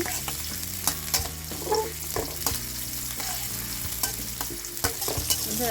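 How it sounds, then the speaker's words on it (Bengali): Chopped onions and garlic sizzle steadily in hot oil while a spoon stirs and scrapes through them, with frequent clinks and knocks against the pan, all close and continuous. "পেঁয়াজ কুচি দিয়ে দিলাম দুইটা এখন ভেজে নেড়ে নিচ্ছি"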